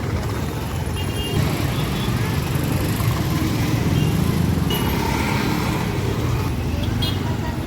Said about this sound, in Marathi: रेल्वे स्टेशन परिसरात या रिक्षा आणि ही बघा ट्रॅफिक जी आहे ती लागलेली आहे